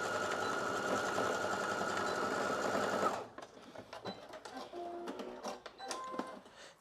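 A sewing machine stitches across the straps of a slip dress in a steady, fast mechanical whir for about three seconds, then stops, leaving soft handling and fabric rustles.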